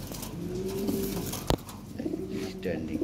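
Pigeons at a pigeon farm, soft repeated cooing close by over a low background hum, with a sharp knock midway.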